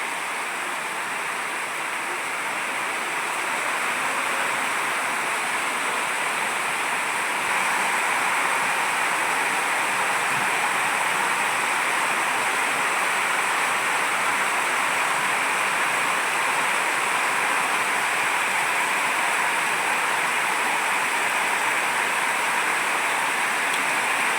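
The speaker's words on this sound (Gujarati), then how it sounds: "જોઈ શકો છો કેટલો વરસાદ છે દૂર દૂર કાંઈ પણ દેખાતું નથી" Torrential monsoon rain pours down during a day-long downpour, a dense, unbroken roaring hiss that holds steady for over twenty seconds with no voices.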